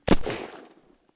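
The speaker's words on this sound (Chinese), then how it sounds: "这机枪伤害还是挺高的" A single heavy machine gun burst in the survival game Unturned, a sharp loud crack followed by a rolling echo that fades out within a second, with no talk.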